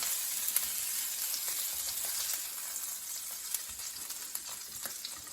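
Hake fillets pan-frying in melting butter, a steady close sizzle and crackle with scattered sharp pops, holding fairly even throughout with no talking.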